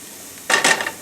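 Onions sautéing in a pot for cream of mushroom soup, a brief pair of scraping stirs over a faint background sizzle.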